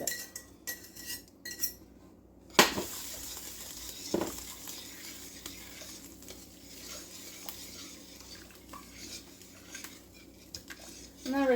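Potatoes and ground beef cooking in a pot, stirred and broken up with a utensil: metal scrapes and clinks against the pot over a low simmering background, with one sharp clank early on.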